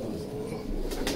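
Pigeons kept by a breeder coo softly in a loft, a low murmuring drone that continues throughout with some faint rustling near the end.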